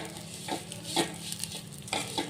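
Vermicelli (shavige) frying on a medium flame for shavige payasa, a soft steady sizzle with occasional stirring scrapes at regular intervals, close and fairly quiet, no voices.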